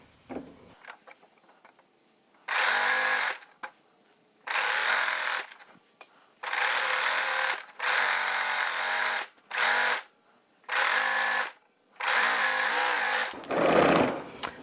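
A serger stitching the side seam of a dolman sweater, running in about seven loud close bursts of steady motor whir separated by brief pauses.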